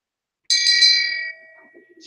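A bright bell dings once on a live talk show, a single clear ring that sounds alone and then fades quickly.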